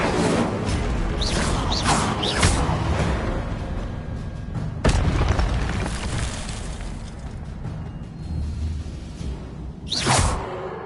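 Fire spell cast in the video game Hogwarts Legacy, a dense burst of whooshing flame and crashing impacts over a busy game soundscape, with sharp swishes and a loud hit near the middle.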